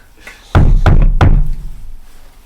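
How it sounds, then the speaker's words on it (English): Three firm knocks land on a door in quick succession, loud and close, each with a short ringing decay, followed by quiet. "I just knock."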